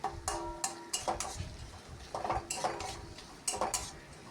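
A spoon stirs and scrapes onion, tomato and green chili with grated ginger and garlic in a pan, giving repeated close metallic clinks and scrapes in uneven bursts over a faint sizzle.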